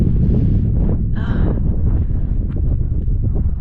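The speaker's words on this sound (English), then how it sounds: "It's windy!" Steady wind buffets the microphone throughout with a loud, low rumble on a mountain campsite in the Glyderau, Snowdonia, and a brief higher whistling tone rises briefly about a third of the way in.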